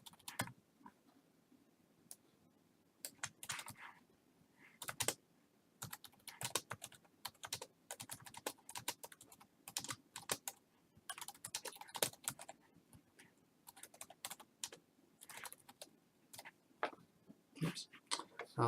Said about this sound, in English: So now if I type in